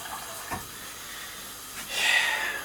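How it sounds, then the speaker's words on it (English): Water running into a pot from a tap for home brewing, a soft hissing rush that swells louder near the end, close by with no talking. "Fill that up with a little bit of water."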